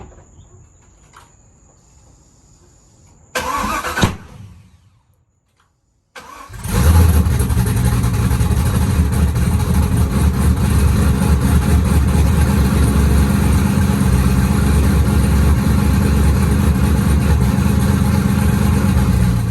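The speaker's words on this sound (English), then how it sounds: "last night I was able to get a little first start on the car." A twin-turbo Corvette C5 Z06 cranks over in a quiet garage with crickets chirping. After a brief pause it fires up loudly and settles into a steady, rough, close idle.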